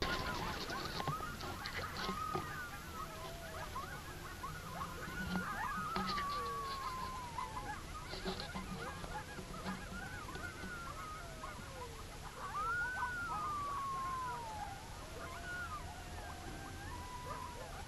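Geese honk and ducks quack intermittently on the water in the dark at a Colorado waterfowl hunting spot, faint and fairly distant, with several drawn-out calls rising above a quiet outdoor background.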